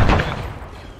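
Strafing run from an aircraft in the ARMA 3 Star Wars mod: a loud, close burst of rapid gunfire and booming impacts at the start, fading into a rumbling tail.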